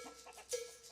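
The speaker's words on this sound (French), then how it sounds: "une poule sur la route" A chicken on a road in a video game gives a quick, short cluck or two over a faint background tone, close and brief.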